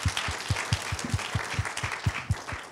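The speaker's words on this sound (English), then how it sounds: "Round of applause for" A short burst of audience applause at a Hong Kong tech conference, with distinct, fairly regular claps, moderately loud.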